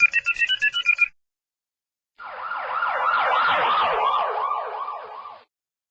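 A brief electronic ringing trill gives way to a wailing siren that rises and falls repeatedly for a few seconds, then cuts off.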